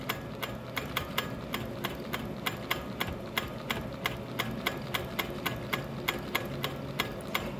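Sewing machine free-motion quilting over wool applique with a glide foot, running steadily with a fast, even ticking of needle strokes under a low mechanical hum, close and alone.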